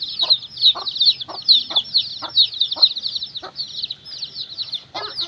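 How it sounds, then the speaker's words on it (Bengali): A flock of fourteen- to fifteen-day-old chicks chirps busily, with dense, overlapping high peeps running throughout, broken by a few soft, scratchy rustles at regular intervals. "এখানে মুরগি বাচ্চা রয়েছে মাত্র চোদ্দ থেকে পনেরো দিন"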